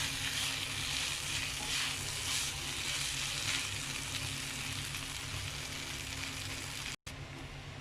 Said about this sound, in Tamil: ஆட் பண்ணிவிட்டு நல்லா மிக்ஸ் பண்ணி விடுங்க.